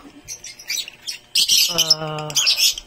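Lovebirds offered at a bird sale give close, loud, shrill chirps and harsh squawks in repeated bursts, with one stretch of steadier tonal calling in the middle.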